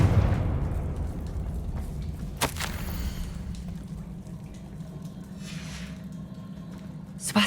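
Confringo explosion spell cast in Hogwarts Legacy, a sharp burst at the start followed by a lingering rumble, then a second crisp crack midway and another hit near the end, close and fairly loud.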